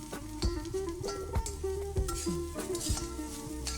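Rice flour upma being poked and stirred in a pan: a spoon repeatedly jabs and scrapes against the metal in an uneven rhythm, close and moderately loud, over a faint steady sizzle.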